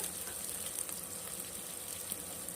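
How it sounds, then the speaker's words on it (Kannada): Onion and garlic fry in oil in a pan for a ridge gourd sambar, giving a faint, steady sizzle and crackle with no voices over it. "ಬ್ರೌನ್ ಕಲರ್ ಬರೋ ಹಾಗೆ ಫ್ರೈ ಮಾಡ್ಕೊಳ್ಳೋಣ ಈರುಳ್ಳಿ ಮತ್ತು ಬೆಳ್ಳುಳ್ಳಿಯನ್ನು"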